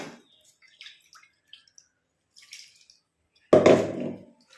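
Small drips and splashes give way to a short burst of water poured into a container, close and brief, then fading.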